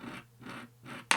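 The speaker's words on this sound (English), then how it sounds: "Just gently scraping away and lifting" Gentle, soft strokes scrape colour off a painting of a Highland cow, three slow swishing passes close by, ending in a brief sharper scratch.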